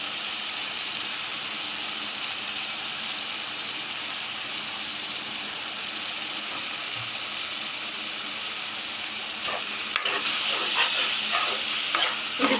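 Soaked sago pearls frying in ghee hiss evenly for a long stretch, then stirring adds a burst of scraping and spatter toward the end.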